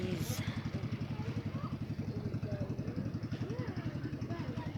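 A motorcycle engine putters nearby at a harbor pier in Oroquieta City, its steady rhythmic thumping running throughout, with voices talking over it.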